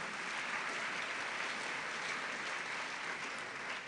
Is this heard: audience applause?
yes